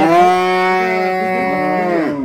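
A cow, the mother of a three-day-old female Friesian calf, gives one long, loud, close moo that holds steady and then falls away at the end, with no talk over it.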